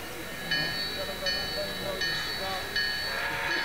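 Model railroad train running at a crowded festival, with a recurring ringing bell-like tone and rolling rail noise over a busy hall murmur, people talking in the background.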